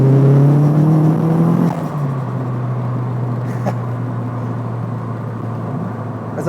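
Renault Clio 172 Cup with an aftermarket-ECU turbo engine revving hard, the note climbing and then dropping to a steady, droning hum that holds with little change; no voices, one engine close by and loud.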